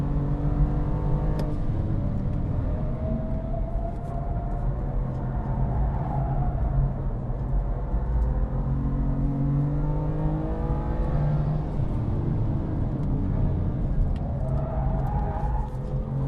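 A BMW M2 Competition's engine drones steadily from inside the cabin on the wet Brands Hatch race track, rising and falling in pitch as it accelerates and shifts through gears at speed.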